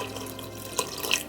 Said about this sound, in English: I am gonna go ahead and add just a little bit more water